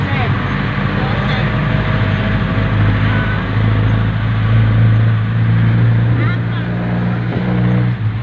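Inside a moving jeepney on a city road in the Philippines, a loud steady diesel engine drones and rumbles with road noise throughout, while people talk over it.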